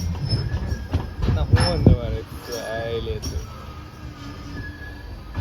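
A train runs alongside with a rumbling roll and squealing wheels, loud and close at first then easing off, while people talk over it.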